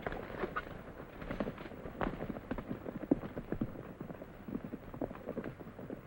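Horses' hooves clip-clop in an irregular, moderately quiet patter throughout a 1944 Western film scene, with soft scattered thuds and no clear rhythm.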